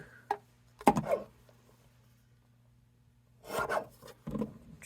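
Christmas card stock is trimmed by hand in a few short, close rasping strokes with quiet gaps between them, no talking.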